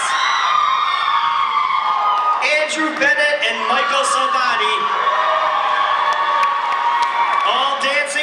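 A high school Mr. NHS pageant crowd cheers and whoops loudly for contestants, with shouts and applause rolling throughout while an announcer talks over the noise.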